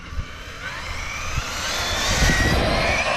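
An Arrma Mojave 8S RC car's electric motor at full throttle on pavement, a loud rising high-pitched whine that climbs steadily in pitch and volume as the car speeds away, with no talking.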